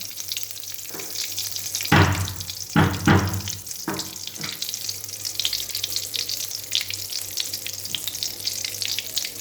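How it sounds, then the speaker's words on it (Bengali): Whole spices, including bay leaves, hitting hot oil for a Bengali egg curry tempering: a steady loud sizzle and crackle with a few sharper bursts early on, no voices. "এখন এই তেলের মধ্যে আমি ফোড়ন দিয়ে দেবো।"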